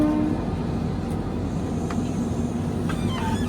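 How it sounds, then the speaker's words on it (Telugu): Passenger train passing in India, heard as a steady rumbling roar of rolling wheels with a few faint higher squeals and clanks over the continuous noise. "అదిగోండి ప్యాసింజర్ ట్రైన్."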